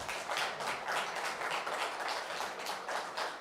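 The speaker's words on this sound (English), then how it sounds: "May we give Angela and Ryan a round of applause." Congregation applause at a church service: steady, dense clapping from many hands, sustained and even throughout with no voices.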